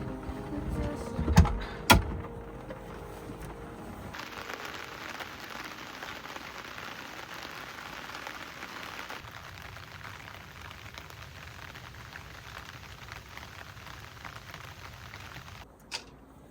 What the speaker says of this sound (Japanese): 今日すごい雨だね。 めっちゃ降るね。